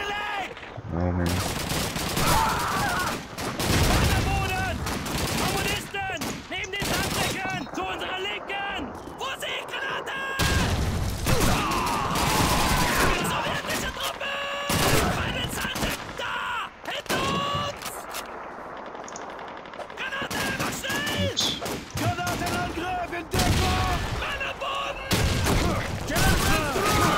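Gunfire in the PC game Call of Duty 2 during the Russian campaign, with bursts of rifle and machine-gun shots, booming explosions and dense battle noise throughout, loud and close, with someone talking over it at times.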